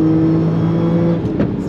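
A supercharged Audi S5 with 420 hp accelerating hard, a loud close engine drone rising steadily from inside the car, then easing off near the end with a brief whir.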